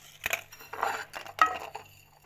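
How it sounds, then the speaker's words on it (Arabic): A spoon stirs sugar into butter in a bowl, making a few soft, close scraping swishes and light clinks over about two seconds, with no voices. "وكنبدا كندخل هاد السنيده في هاد الزبده حتى تذوب لينا مزيان"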